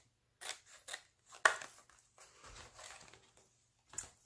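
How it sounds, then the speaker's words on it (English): Scissors snip through paper for a scrapbook junk journal, several separate crisp cuts close by with short pauses between them and no talk. "So I'm going to see if I can cut out some of this right here and put it with this."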